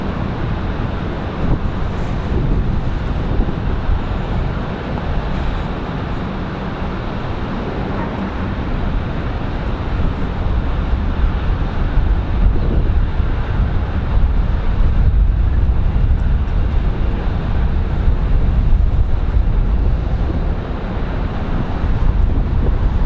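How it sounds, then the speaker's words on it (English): A Southwest Boeing 737-700 departs Raleigh Durham airport on a windy day, a steady low jet rumble that grows slightly louder over about twenty seconds, mixed with gusty wind buffeting the microphone. "We've got a Southwest, looks like a 737-700 on their way out for departure."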